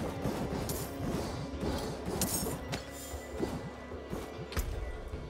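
A dense, continuous barrage of crashing blasts and clattering impacts, one after another with no pause, loud and close, in the video game Diablo 4.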